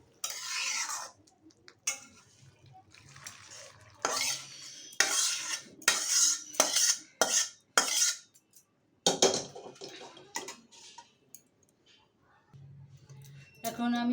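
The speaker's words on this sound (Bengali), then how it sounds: "এখন আমি ভেজে রাখা এই মাছের পাত্রে তরকারিটা ঢেলে তেল দিয়ে নেব" Spinach curry is poured into a pan holding fried bata fish, with metal spoon scrapes, clinks of cookware and soft stirring, intermittent and close.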